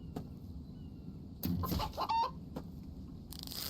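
A chicken in The Infected survival game clucks in a few quick bursts over a soft background, fairly close and distinct, with no voices.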